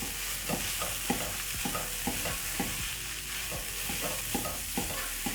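Minced beef with black pepper and paprika stirred in a sizzling pan for a peas and meat stew, a steady fry hiss under repeated rhythmic scraping strokes of the spoon.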